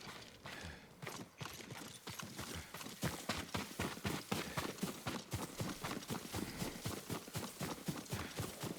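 A horse gallops in Ghost of Tsushima, its hooves pounding in a quick, regular rhythm that grows louder and closer partway through, with little else around it.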